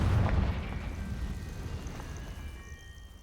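A Confringo spell explosion in a video game: a loud, rumbling blast at the start that slowly fades into a sustained low roar with faint tonal game effects above it.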